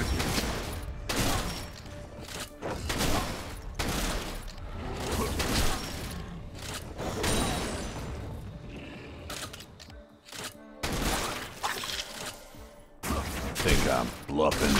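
Graves' shotgun in Wild Rift fires repeatedly in loud, sharp blasts, rapid bursts of gunfire clustered in quick succession with brief gaps and game effects between shots.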